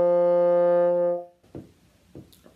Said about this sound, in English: To play the bassoon, you blow through a little reed here,